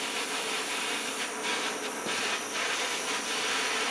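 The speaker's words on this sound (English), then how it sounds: "you can see the rag's starting to steam a little bit already" A damp rag steams as it is heated with a fast-heating torch, giving a steady broadband hiss and roar throughout with faint fluctuating surges, close and continuous with no talking.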